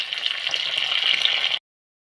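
Urad dal, mustard seeds, dried chillies and curry leaves crackle and sizzle in hot oil, a steady close-up frying hiss that runs unbroken for about a second and a half, then cuts off.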